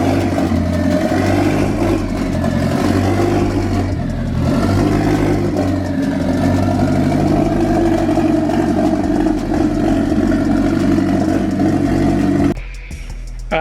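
A custom turbocharged 2016 Mazda MX-5 (ND Miata) engine fires up and runs loud and close, a steady rough drone with small rev swells for about twelve seconds before dropping away abruptly near the end, with no talking.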